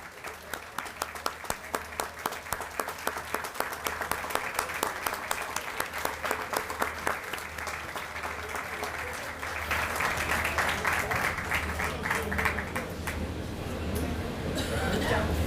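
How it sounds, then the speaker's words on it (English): An audience at a groundbreaking ceremony for the Bay of Pigs Museum of Brigade 2506 applauds museum members with dense, continuous clapping, growing fuller and louder partway through. "And please join me in applauding for their commitment."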